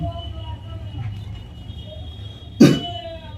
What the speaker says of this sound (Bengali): কি হলো কাশি লাগছে